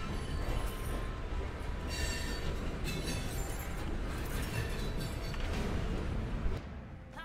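Loud rumble of heavy freight rail cars rolling past close by near a cargo switching yard, with metallic wheel squeals and clanking throughout, easing off near the end.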